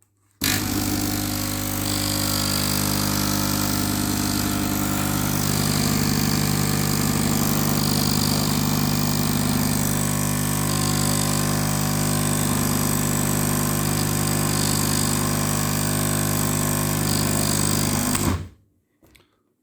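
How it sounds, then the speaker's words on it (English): A Nescafe Dolce Gusto coffee machine whose pump is running with strong vibration, a loud, steady buzzing drone that holds for about eighteen seconds before cutting off abruptly, with no talking. "This is the unit with the good pump with vibration."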